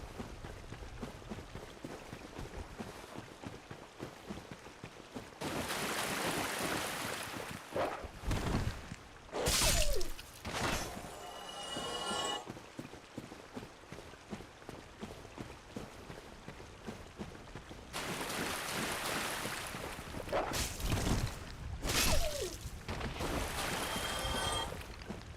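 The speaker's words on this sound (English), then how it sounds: "The waterfall is also way too loud." A waterfall in the video game Dark Souls 1 roars as a steady broadband rush of falling water, swelling louder in long stretches and cut by sharp whooshing bursts, with no voices over it.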